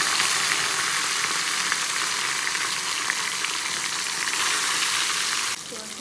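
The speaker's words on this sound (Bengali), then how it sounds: "মাছটাকে ভালো করে লবণ হলুদ দিয়ে মেখে ভেজে নেব।" Fish coated with salt and turmeric fries in a small wok, giving a loud, dense, steady sizzle up close that drops slightly in level near the end.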